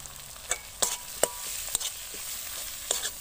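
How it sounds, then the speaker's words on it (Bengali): Fish with kudri and ground spices sautés in a pan, giving a soft, steady sizzle broken by several sharp scraping clinks of a spatula stirring, close and fairly quiet. "গুঁড়ো মশলা দিয়ে আমি এক মিনিট ভালো করে কষিয়ে নিয়েছি।"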